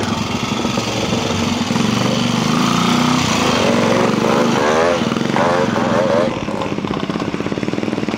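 A vintage two-stroke trials motorcycle rides through a quarry at a pre-unit trial, its engine buzzing and revving up and down in rising and falling bursts close by, with someone commentating over it.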